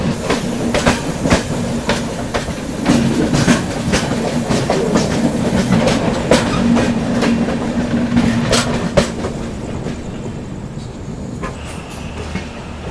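The Sabarmati Express on the Darbhanga–Ahmedabad route runs past with a steady, loud rumble and rhythmic clickety-clack of wheels over rail joints, continuous throughout and easing slightly toward the end.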